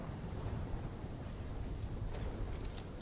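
Heavy storm rain from the video game Call of Duty Black Ops 3, a dense, constant roar of downpour with a low rumble throughout and no distinct thunderclap standing out.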